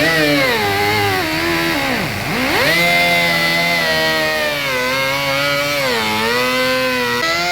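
A power tool trims a plastic piece on a Duramax truck bumper with a loud, continuous whining buzz. The pitch dips sharply once as the blade bogs into the cut, then climbs back and holds steady, with no talking.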